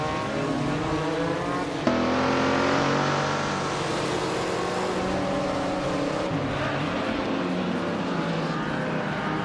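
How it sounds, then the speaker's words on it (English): A 1973 Mazda RX-3 GTI race car engine in a racing video game roars close and loud, its pitch climbing through gears with sharp shifts, revving steadily with no voices. "Amy is driving a 1973 Mazda RX 3 GTI."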